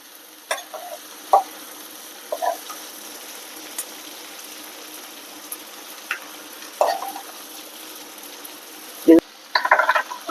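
Broad beans and onion are stirred in a frying pan. A faint sizzle runs throughout, broken by irregular scrapes and clinks of the spoon.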